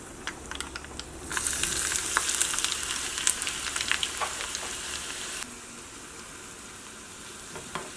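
Loud, dense crackling and spattering of mustard seeds popping in hot oil, with sharp pops scattered through, then settling into a quieter sizzle.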